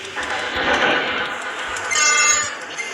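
A ChS8 electric locomotive hauls a passenger train on the Kyiv–Odesa line, giving a steady rolling rumble and rail noise that swells and brightens near the end of the stretch.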